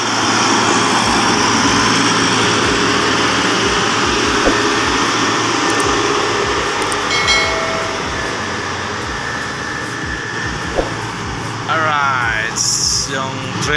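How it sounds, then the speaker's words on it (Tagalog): An XGMA motor grader's diesel engine runs steadily throughout, loud and close, as the machine cuts earth during operator training, with a constant broadband drone and a brief mechanical clatter near the end. "yung training ng motor grader natin, yun, pinahawak natin ulit, bumanat sa pag cutting doon"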